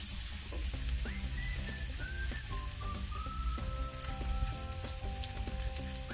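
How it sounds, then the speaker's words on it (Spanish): Garlic cloves frying in hot olive oil in a pan for a meat lasagna, giving a steady close sizzle with light crackling spits throughout and no voices. "Le vamos a añadir los dientes de ajo. Sofreímos un poco."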